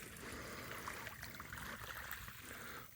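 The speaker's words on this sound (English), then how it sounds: "The waves are gently crashing." Gentle waves washing onto a small private beach beside a fallen tree, a steady soft wash and fizz of water that stays even and close throughout, with no voices.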